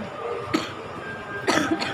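Coughing from someone at an ocean park aquarium: two short, fairly close bursts about a second apart, over a steady background hum.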